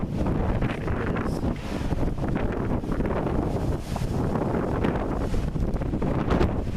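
Strong storm winds roar steadily across an open outdoor spot in Effingham County, loud, continuous gusting buffeting the microphone with no one speaking.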